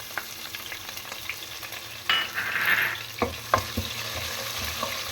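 Chopped spring onion and garlic sautéing in a pan, a soft steady sizzle broken by a few sharp scraping stirs and a brief louder hiss, close and without talk.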